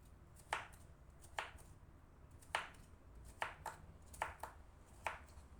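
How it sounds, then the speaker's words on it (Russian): A knife chops cucumber into small cubes on a board, about eight sharp, separate strikes in an uneven rhythm, close and fairly quiet over a low background hum. "И теперь огурец я нарезаю маленькими кубиками."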